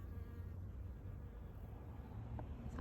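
A bee buzzes close around a flower in a garden, a steady low drone that wavers as it moves, with no voices.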